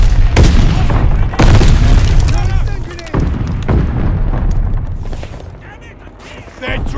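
Grenade blasts and battlefield booms erupt in Call of Duty Vanguard beta gameplay on PS5. Loud, heavy explosions roll one after another under shouted voices and combat noise.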